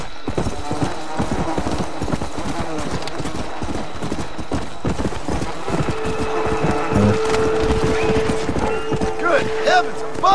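In Red Dead Redemption Undead Nightmare, a horse's hooves clip-clop in a quick, steady stream close by, and a whinny rises near the end, all under a busy game soundscape.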